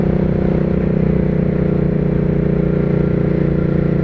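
A Hyosung GV650 cruiser motorcycle fitted with a Ducati exhaust drones steadily while riding, a continuous close engine hum with a low throbbing exhaust note and faint clatter, no speech.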